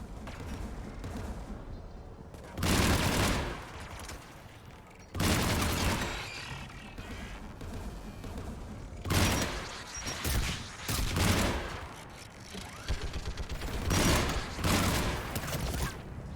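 Turrets open fire in a Mass Effect Legendary Edition battle, loud sustained bursts of gunfire and booming impacts arriving in heavy waves with brief lulls between, filling the whole stretch without speech.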